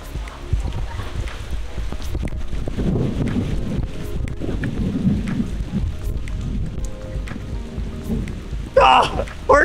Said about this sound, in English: It is raining crazy out right now.